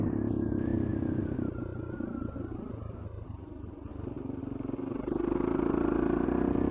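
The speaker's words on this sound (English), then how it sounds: "Anyway, motorcycle fans, that's my ride to work" A motorcycle is ridden on the road, its engine droning steadily beneath rumble and wind buffeting, dipping briefly midway before the revs climb louder again toward the end.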